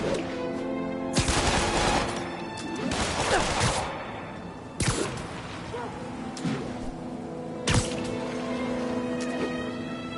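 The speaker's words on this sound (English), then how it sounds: "we have reports of gunfire coming from multiple vehicles" Bursts of video game gunfire ring out on a PS4, loud sharp blasts and rattling volleys with crashes between them, set over a continuous background score and ambient game noise.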